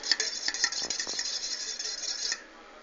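Utensil scraping and clinking against a bowl while a mustard and olive oil vinaigrette is stirred, a steady close-up scratching run for about two seconds with small taps, then quieter.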